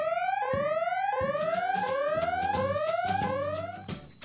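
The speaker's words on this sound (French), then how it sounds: "le signal d'alarme retentit" A toy siren alarm from a Robocar Poli toy plays a looping electronic tone, each rising sweep repeating about every second and a half, loud and steady with no voices over it.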